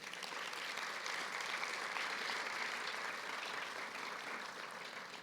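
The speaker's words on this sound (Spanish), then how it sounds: "Dele ese fuerte aplauso." A church congregation breaks into sustained applause during a sermon, a dense, even wash of clapping that holds steady throughout at a fairly low, distant level with no speech over it.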